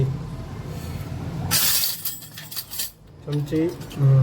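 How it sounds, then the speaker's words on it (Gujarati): Metal spoon clinking and scraping against a dish for a few seconds, a bright clattering burst, followed by a little voice at the end. "હવે આપણે મસ્ત ભેળવી દઈશું ચમચી"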